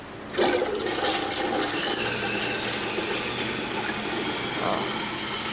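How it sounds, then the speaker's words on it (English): A toilet flushing in a shipping container home's bathroom, starting with a clunk and then a loud, steady rush of water and refill hiss that lasts to the end, close by. "Flush it."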